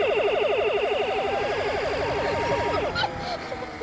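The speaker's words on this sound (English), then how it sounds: "Blast him with a laser gun." A toy laser gun fires a rapid stream of pulsing electronic zaps that warble steadily for about three seconds beside a fast electric bike, then cut off.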